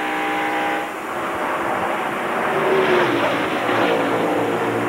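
A 1993 NASCAR race car in the Splitfire Spark Plug 500 drives around the track, its engine a steady, loud roar that swells slightly as it passes, with no talk over it.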